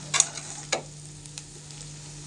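Potato sautéing in a pan over a low gas flame, a quiet sizzle punctuated by a few brief spatula scrapes and taps.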